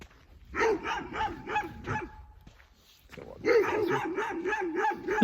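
Dogs bark on a walk in two rapid runs of repeated, fairly close barks, separated by a short lull.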